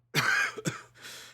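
A couple of harsh, close coughs, a short burst followed by another, then a softer rasping breath trailing off.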